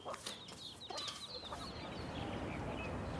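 Chickens at a riding centre cluck and chatter near dawn feeding time, with a few close squawks early on that fade into a steady low outdoor rumble.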